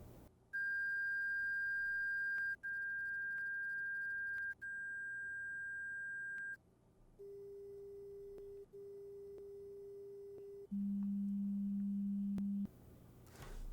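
Pure sine test tones from the Liberty 2 Pro earbuds hearing-test app sound one after another, each a steady beep lasting one to two seconds. A higher pitch repeats three times, then lower pitches follow, with brief silences between them.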